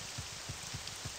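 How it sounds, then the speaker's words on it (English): Rain falling in the Morrowind video game, a steady broadband patter with soft periodic thumps, heard alone and fairly quiet near a tunnel. "I don't like that it's raining, you know, in the tunnel"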